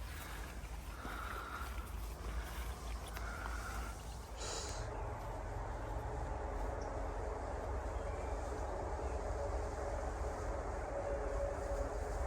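A low continuous rumble of a train moving along the rails at an Appalachian Trail station in New York, steady throughout, with a brief higher squeal or hiss early on.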